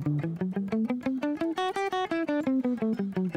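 Guitar playing a scale as a warm-up exercise, single picked notes climbing steadily upward and then descending back down in an even, quick rhythm, close and clean with no talk.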